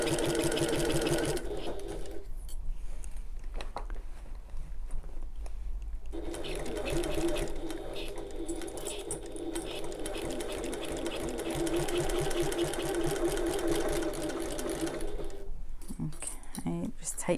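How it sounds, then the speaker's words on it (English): Sewing machine stitching around the entire top of a bag at one-eighth inch from the edge, a close, steady mechanical whir running almost continuously with a brief slowdown early on, pigeons faintly cooing in the background. "I'm sewing at 1/8 of an inch or 3mm away from the top."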